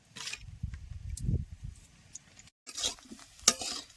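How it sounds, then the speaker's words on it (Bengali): Cauliflower florets frying in a pan for a vegetarian cauliflower kalia cooked in a village kitchen: soft sizzling with a few stirring scrapes, quiet and close, with a brief gap partway through. "কপিটা বেশ সুন্দর করে ভাজা হয়ে গেছে"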